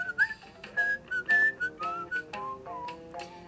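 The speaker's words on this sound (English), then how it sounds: "I hear a zookeeper whistling in my ear." A zookeeper's whistle rings out in a quick run of clear, bright notes, some short and some held, close and loud with no talk over it, a sound effect for a children's picture-book reading.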